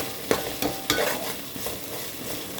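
Ginger, garlic and green chilli paste sautéing in oil in a pan for tomato rice, a soft continuous sizzle broken by a few sharp scrapes and stirs of a spoon near the start.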